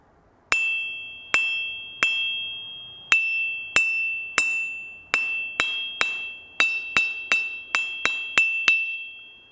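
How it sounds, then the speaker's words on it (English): A hammer strikes a soft anvil that rings loudly, each blow a bright metallic ping that hangs and decays, at a steady, quickening pace. "But this one, however, it rings."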